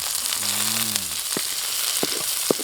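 Butter sizzles in a pan with garlic and rosemary while a giant beef steak cooks, giving a steady close frying hiss with a few soft clinks and a brief low tone.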